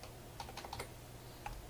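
A burst of quick keystrokes, then one final tap, sounds on a computer keyboard as a game PIN is typed in, soft and close with no talking.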